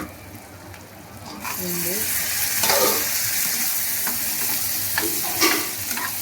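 Tomato and garlic frying in a pan for brinjal curry, with a steady close sizzle, occasional stirring scrapes and a brief faint voice under it.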